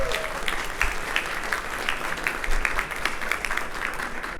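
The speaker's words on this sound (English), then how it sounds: "So give yourself a round of applause." An audience at the Fintech Americas Miami 2022 conference claps together, a full, even round of applause with individual claps standing out here and there.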